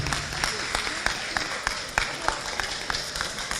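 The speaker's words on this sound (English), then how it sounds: "Round of applause for them." An audience at an inter-faith commemoration gives a short round of applause, moderately close with uneven individual claps forming a light, scattered patter rather than a dense roar.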